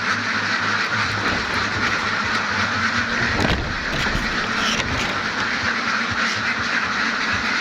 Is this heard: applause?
no